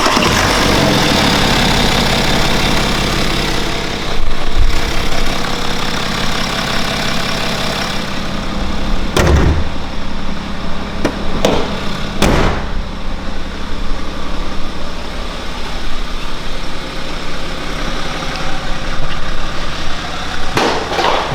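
A BMW N57 diesel engine idles steadily on its first start after a timing chain replacement, a continuous close rumble with a few brief knocks and clicks over it and no talking.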